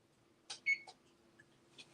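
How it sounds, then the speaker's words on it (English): A few short electronic beeps from an oven timer as it is set for a pumpkin pie bake, with a single brief tonal beep standing out among faint button clicks in a quiet kitchen. "Meaning I'll set the timer for 20"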